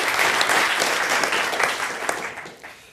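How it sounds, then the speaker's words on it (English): Audience applause in a conference room, a dense wash of clapping that stays steady before tapering off toward the end, with no voices over it. "Don't give me your applause too early."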